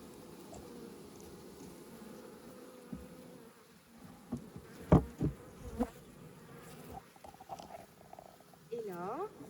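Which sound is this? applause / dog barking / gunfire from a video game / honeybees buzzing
honeybees buzzing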